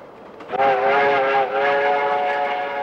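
Train running on rails through mountain country, a loud, close rolling rumble with sustained whistle-like metallic tones rising after a brief quiet start.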